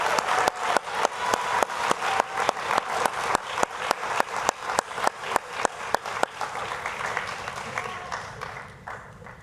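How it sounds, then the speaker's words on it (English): Audience applause for athletes at a varsity awards ceremony, a sustained crowd clapping at close range with distinct sharp claps standing out, fading out toward the end. "please warm round of applause for our athletes"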